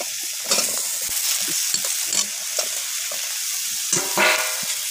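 Cut brinjal and potato fry in a pan for a mixed greens dish, a steady sizzle with repeated scraping stirs and clinks of the spatula, close and alone.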